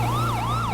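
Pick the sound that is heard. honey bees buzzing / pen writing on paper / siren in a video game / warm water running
siren in a video game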